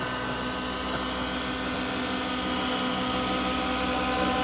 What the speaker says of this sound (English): the 700 helicopter